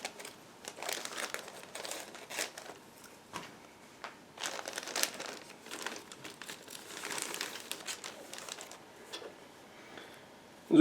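A plastic bag holding the fuselage halves of a 1/72 scale Mi-8 MTV-2 helicopter model kit is opened, giving close, irregular bursts of crinkling and rustling plastic that come and go in short flurries.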